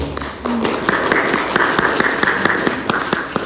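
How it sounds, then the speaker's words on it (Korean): A church congregation claps during a Sunday worship service, a dense, steady patter of many hands, fairly close and sustained, with a brief voice near the start. "자연스럽게 박수가 나오는 것을 보니까 감동을 하시는 것 같습니다"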